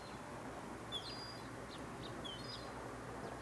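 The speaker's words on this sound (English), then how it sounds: "As usual, the birds are on the feeder." Faint bird calls drift from a feeder by a quiet bay in the morning, a few scattered high chirps and whistles over soft steady background noise.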